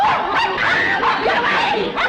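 Dog barking in a 1960s sitcom scene, repeated barks and yips close by, loud and busy, with other voices or noises mixed in.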